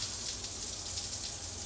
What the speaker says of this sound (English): Decent shower head. Let's see how the water pressure on this one is.